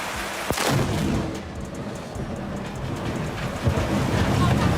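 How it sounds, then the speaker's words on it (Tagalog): A lightning strike brings a burst of thunder and steady rain that fills the whole stretch, with a sharp crack early on and rumbling that swells again near the end, loud and close. "bigla na lang itong tinamaan ng kidlat"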